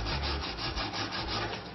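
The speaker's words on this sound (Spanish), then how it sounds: "acá vamos a coger la lija suavemente" Sandpaper rubbed steadily back and forth over wood in a gentle, even rhythm, close and continuous for nearly two seconds with no talking.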